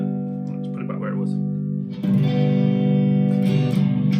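A Harley Benton ST-20 HSS electric guitar on its neck pickup through a clean amp tone sounds a sustained chord, then a fresh strum rings out louder and fuller, with no speech over it.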